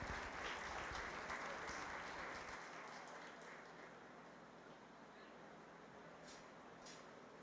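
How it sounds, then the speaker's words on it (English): Spectators at a 4-H county fair swine show clap for the young showmen. The dense applause starts strong, eases after a couple of seconds and keeps going at a lower, steady level. "let's give all those showmen a nice round of applause"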